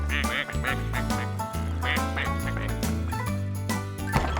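Cartoon ducks quacking on a farm pond, several bright nasal quacks popping out in quick bursts over a bouncy background music track.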